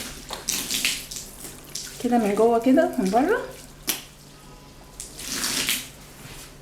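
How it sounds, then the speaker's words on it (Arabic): Water running and splashing while a washed carpet is rinsed a second time to clear detergent residue, a steady wet rush with someone talking over part of it. "ابتدي برده احط ميه تاني اشطفها شطفه كمان عشان لو في اي رواسب من المسحوق تنزل"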